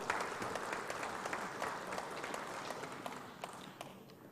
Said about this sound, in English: a great round of applause are expected from you